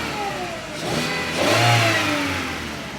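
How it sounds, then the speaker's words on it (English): A Volkswagen Beetle engine revs up and settles back down, rising to a loud peak mid-clip before easing toward idle, close by with no voices. "Your motor sounds pretty healthy."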